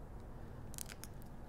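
New fine-tip scissors snip around the edges of paper card for fussy cutting, a few quick close crisp clicks in a quiet room with a faint background hum.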